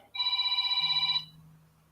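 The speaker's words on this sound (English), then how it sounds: "my phone has gone off, but that's in a different room." A phone rings in another room, a single burst of bright, fluttering electronic ringing about a second long that stops abruptly, alone with no talk over it.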